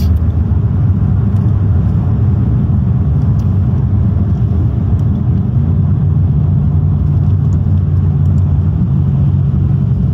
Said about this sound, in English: So let's check what is the speed of manual downshifts of the gears.